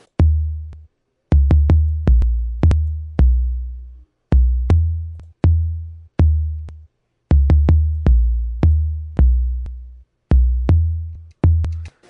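Deep 808 kick drum booming under a sampled beat in a home-made track, the thumping low hits falling in a repeating rhythmic pattern, loud and dry with brief gaps between bars and no voices.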